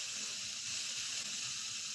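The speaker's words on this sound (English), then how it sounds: "And get the nice sizzle." Chicken burgers on a barbecue grill give off a steady, quiet sizzling hiss that runs evenly throughout without breaks.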